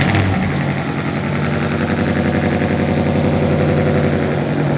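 A car engine idles loudly and steadily nearby through a newly fitted full exhaust, a deep, throbbing rumble with no pauses.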